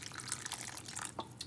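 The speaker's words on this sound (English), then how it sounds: "I've got it in a pan here, and so you're gonna add water" Water is poured into a pan of peanuts, a faint, close trickle with small splashes and drips, quiet and unbroken by talk.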